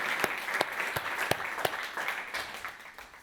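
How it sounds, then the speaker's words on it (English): Conference audience claps for award winners, a moderate round of applause with a few distinct louder claps standing out over a steady patter, heard from within the room. "we can just give a round of applause to the Michelson winners"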